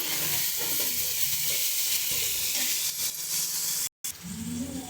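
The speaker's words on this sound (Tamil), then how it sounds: "இது ஒரு 2 நிமிஷம் ஃப்ரை ஆகும்" Mint leaves fry in a pan for coconut milk rice, giving a close, steady sizzle with stirring scrapes, briefly cut off near the end before the hiss returns.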